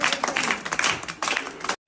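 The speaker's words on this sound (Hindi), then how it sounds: "चलो भाई, दिब्बू के लिए ताली बजा" A small group claps for Dibbu after he answers a question about Holi in a playful comedy skit; a brief burst of hand claps with scattered voices mixed in, ending abruptly in silence.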